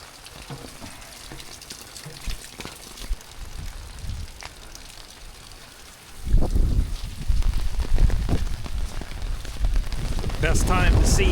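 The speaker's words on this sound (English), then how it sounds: "Best time to see what they're talking about is during a really high rain event, and we have just got it." Heavy rain at an RV park, starting as scattered patter and suddenly becoming a loud, dense downpour that roars steadily on the surfaces.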